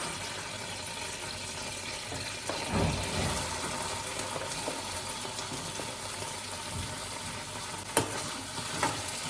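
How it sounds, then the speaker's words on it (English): Chopped onions dropped into hot oil with ginger garlic paste, frying in a pan with a steady close sizzle, a burst as they hit the oil and occasional scraping stirs; no talking. "Then we are adding our chopped onions."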